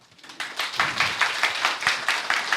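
Small audience clapping at a Korean architecture talk, steady close rhythmic claps building over a couple of seconds with no voices.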